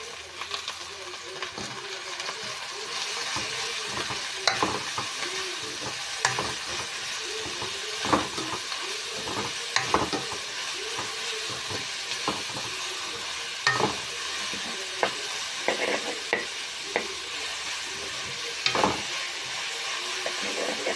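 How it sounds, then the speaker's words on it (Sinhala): Carrot and leek frying in a pan for kottu, a continuous sizzle and hiss broken by frequent scraping and clacking of a utensil stirring and tossing the vegetables; no voices. "මේක පොඩ්ඩක් බැදෙන්න තියන්න තප්පර 2-3ක් වගේ."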